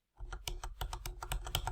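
Computer keyboard keys are pressed in a quick, uneven run of about a dozen crisp clicks, close and quiet, after a brief silent start with no talking.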